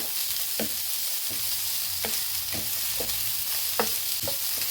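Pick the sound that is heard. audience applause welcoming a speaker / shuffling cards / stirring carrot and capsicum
stirring carrot and capsicum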